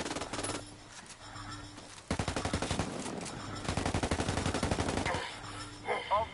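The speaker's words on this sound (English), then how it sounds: "Taking heavy fire! Taking fire, taking fire!" Automatic and rapid gunfire in the video game Ghost Recon Wildlands crackles in sharp bursts, starting sparse and then settling into a long, loud stream of fast repeating shots with short gaps between volleys.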